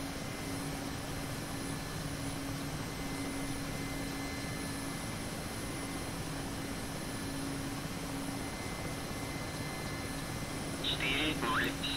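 Mi-8 helicopter taxiing to the runway in DCS, its engines producing a steady, droning whine and hum that runs unchanged throughout, with a brief clatter near the end.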